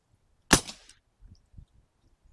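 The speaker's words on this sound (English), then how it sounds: "hopefully this makes it a lot quieter. We're about to find out." A single suppressed rifle shot from a Pinty Nightfall air rifle fitted with a new moderator, a sharp, fairly muffled crack with a short decay, followed by a couple of faint thuds in otherwise quiet surroundings.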